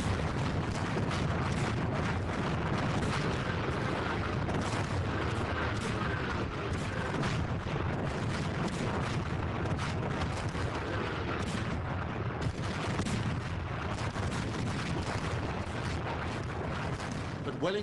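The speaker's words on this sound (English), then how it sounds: "246 French cannon started the bombardment." Napoleon's 246 French cannon fire a bombardment, a dense, continuous rumble of overlapping booms with a voice speaking over the din.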